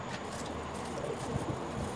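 Soft cooing of racing pigeons in a loft blends into a steady, noisy background murmur, with low coos rising faintly over the din throughout.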